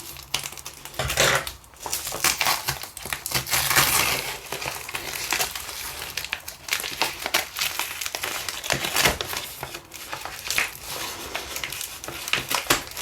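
Paper and sticky tape wrapped around a minidisc storage box crinkle and crunch as the packaging is pulled off by hand, a close, continuous rustle with sharper tearing bursts throughout.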